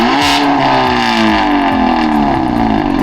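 A 2023 Hyundai Elantra N revs hard with its exhaust valves open, loud and close, the engine note climbing and falling in repeated sweeps with a crackling, raspy edge and no voices.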